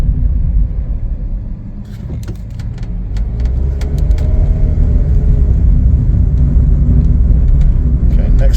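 Steady engine rumble and road noise from inside a moving Chevrolet City Express cargo van, with a few clicks and rattles, growing slightly louder as it drives on.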